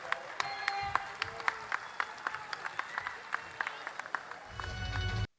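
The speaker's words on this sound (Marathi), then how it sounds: "त्यांचं सर्वांनी टाळ्या वाजवून स्वागत करावं" Scattered audience applause welcoming a speaker at a Pune political rally, sharp individual claps spread through a crowd, fairly faint, ending in a louder rumbling swell before cutting off.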